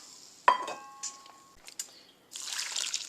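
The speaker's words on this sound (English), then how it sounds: "I'm adding my water into the pot" Water is added to a pot on a kitchen stove, a short clink of the pot followed by a soft, steady pour that builds near the end, close and fairly quiet.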